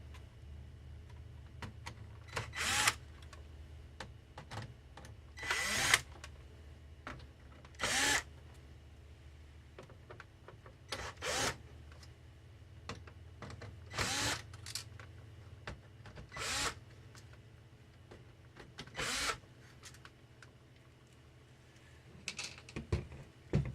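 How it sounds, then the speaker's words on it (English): Screws being removed from a Dell Inspiron One 19 all-in-one computer with a power driver: roughly eight short, separate whirring bursts with pauses, close up, mixed with small clicks and handling taps. "The next step will be to remove the outer screws that secure the computer to the frame"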